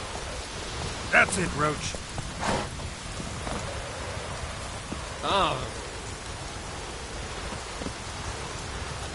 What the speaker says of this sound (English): Rain all you will.